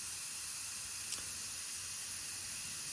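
An airbrush being cleaned, bubbling out and spraying: a steady, quiet hiss of air and fluid continues throughout, with one brief click partway through.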